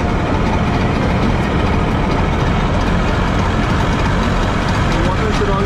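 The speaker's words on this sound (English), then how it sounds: "The engine has started" A rescue boat engine runs aboard ship after an impeller replacement, making a loud, steady, dense mechanical drone that stays constant throughout, with a voice speaking over it.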